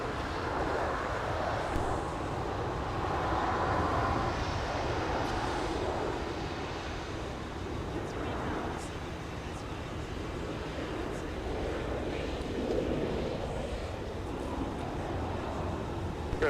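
Delta 171 heavy airliner taking off at snowy winter Minneapolis airport, a steady distant jet engine roar with some wind noise, constant for the whole stretch.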